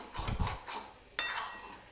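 Grated fresh coconut stirred while roasting in ghee in a thick, heavy kadhai, with a few scraping stir strokes against the pan and a soft background sizzle, close and moderately quiet, no talking.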